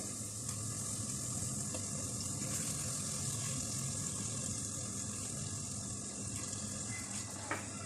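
Water goes into masala frying with koftas for palak kofta, giving a steady, even sizzle and watery hiss that runs unbroken for several seconds at moderate level, with no talk.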